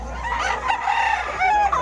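A large three-year-old Hassel crossbreed rooster crows loudly and close, one long drawn-out call with wavering pitch, standing alone without speech over it.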